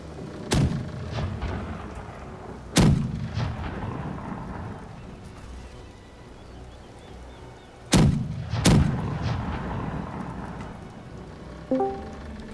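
Heavy ship cannons firing in the naval combat game Blackwake, loud booming blasts in two close pairs with rumbling decay, over a steady background of game ambience.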